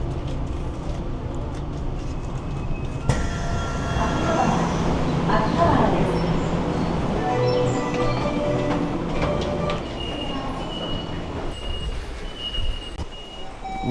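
A Tokyo metro train arrives at Akihabara station, a rumbling, screeching approach that swells in the middle and settles into a steady hum, with occasional beeps and someone talking throughout.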